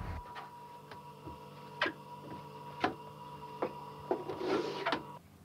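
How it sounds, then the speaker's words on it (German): A MAN Roland Junior printing press runs in a print workshop, clacking in a steady repeating rhythm over a low mechanical hum. "Nach Angaben des Herstellers weltweit eine der letzten noch funktionstüchtigen Maschinen, die MAN Roland Junior"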